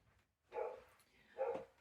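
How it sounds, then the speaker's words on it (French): Dogs bark indoors in a home, two distinct woofs about a second apart, moderately close and clear against a quiet background. "les chiens aboient, mais de façon continue"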